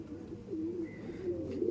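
Andhra pigeons, a male and female pair, coo softly in a low, wavering murmur that carries steadily for a couple of seconds, with no talking over it.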